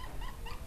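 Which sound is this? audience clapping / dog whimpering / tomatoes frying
dog whimpering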